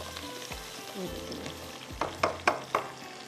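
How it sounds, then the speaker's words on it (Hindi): Onions browning in a frying pan for chicken rice sizzle quietly, with soft spoon stirs and a few sharp scraping clacks toward the end. "अब हम इसको अच्छे से ब्राउन करेंगे, ठीक है। प्याज को अच्छा सा कलर देंगे"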